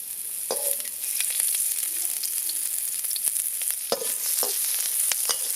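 Oil sizzling and crackling in a pan while frying eggs for a Thai fried-egg salad, a steady bright hiss with scattered sharp pops and a few louder spits, close and continuous with no voices.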